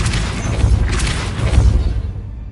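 A Confringo blast spell goes off in the Hogwarts Legacy video game, a dense crashing burst with whooshing debris that rumbles on for about two seconds before cutting to near quiet.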